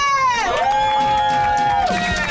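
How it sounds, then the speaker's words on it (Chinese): An audience aboard a boat at the Dadaocheng Qixi fireworks in Taipei cheers loudly for a coach. The crowd noise is steady and close, with bright sustained tones rising and falling over it. "我们掌声给教练。"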